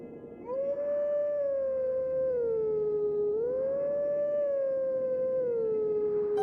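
Wolf Link howls at the Howling Stone in Zelda: Twilight Princess HD, a long sustained wavering tone that dips and rises in pitch over several seconds, loud and steady with no talk.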